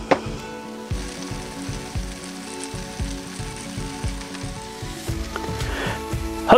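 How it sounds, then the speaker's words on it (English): Monkfish sizzles on a grill inside a wood-fired oven, a steady close crackle and hiss with faint metallic clinks and ticks running through it, no voices. "Hopefully you can hear that fish sizzling away on the grill in there."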